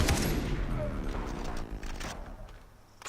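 Gunfire in the video game Far Cry 3, a loud, dense burst of shots and crackling fire that fades somewhat toward the end.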